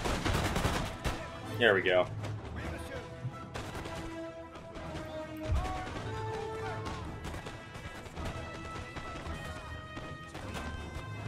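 Musket volleys crack and boom in Napoleon: Total War, a battlefield exchange of repeated shots and crashes with a brief spoken remark at the start.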